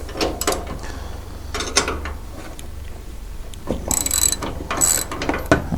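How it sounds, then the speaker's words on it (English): A ratchet with a 19mm socket backs a nut off the top bolt of a Honda Pioneer 1000 door: a close run of rapid clicking, pausing and resuming in bursts. "we'll just take the top bolt out using a 17mm wrench with a 19mm socket and a ratchet to back the nut up"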